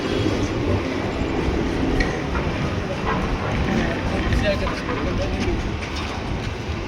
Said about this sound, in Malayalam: 1 മിനിറ്റത്തെ ഹോൾട്ടിന് ശേഷം കാസർഗോഡ് റെയിൽവേ സ്റ്റേഷനിൽ നിന്ന് ട്രെയിൻ ഇതാ ഡിപ്പാർട്ട് ചെയ്യുകയാണ്